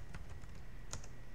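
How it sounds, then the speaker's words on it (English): A few quiet keystrokes on a computer keyboard, three or four soft clicks spread over a second, close and faint against a low room hum. "Let me type this in here."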